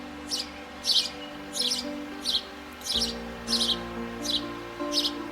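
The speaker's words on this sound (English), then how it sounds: "House sparrow" A house sparrow chirps in a steady series of about nine short, bright calls spaced roughly half a second apart, fairly close, over a faint hum of background noise and no talking.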